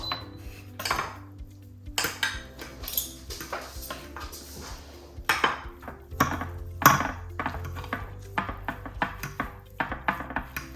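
Rinsed rice with salt being stirred in a pot, a spoon scraping and knocking against the sides in irregular clinks and taps close up, without voices.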